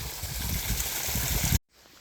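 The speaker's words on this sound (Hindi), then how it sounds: "अभी तो वैसे साफ़ ही पानी आ रहा है" Water gushes loudly and steadily from a pump pipe into a farm field, a close, dense rushing that cuts off suddenly near the end.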